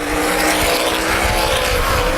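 Outlaw sprint cars roar around the Baer Field Speedway oval during a Hoosier Outlaw Sprint Series feature, a dense, loud, continuous engine howl from several cars at once.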